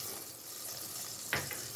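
Fennel seeds frying in hot oil, sizzling softly and steadily, broken by one brief sharp clatter near the end; fairly quiet, with no talking.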